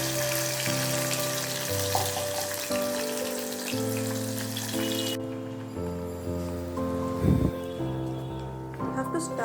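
Tomato garlic paste with kalonji seeds frying in a pan, a soft continuous sizzle beneath prominent background music, with a brief stirring clatter partway through.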